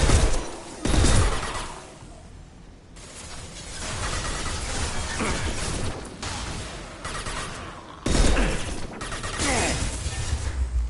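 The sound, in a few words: gunfire in the video game Mass Effect 2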